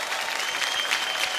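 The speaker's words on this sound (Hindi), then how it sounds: "एक बार जोरदार तालियां हो जाएं आलिया भट्ट की इस खूबसूरत परफॉर्मेंस के लिए" An award show audience applauding Alia Bhatt's performance, a sustained, even roar of many hands clapping that carries from start to end.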